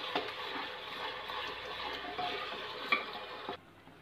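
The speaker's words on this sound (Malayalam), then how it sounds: "ഒന്നുകൂടി നമുക്ക് മിക്സ് ചെയ്ത് ഇളക്കി മിക്സ് ചെയ്ത് എടുക്കാം." Tomato masala stirred and mixed in oil in a pan, a soft, continuous sizzle with scraping strokes and a few sharper clinks of the spoon before the frying noise drops away at the end.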